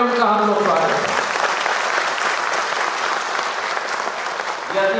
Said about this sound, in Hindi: तालियों की गड़गड़ाहट से उनका हम लोग स्वागत करते हैं।